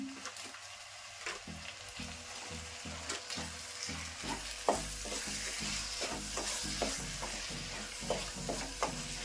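Tomato masala with Kashmiri chilli powder frying in a pan for a rice dish, a steady close sizzle broken by repeated rhythmic scraping stirs throughout, with no voices.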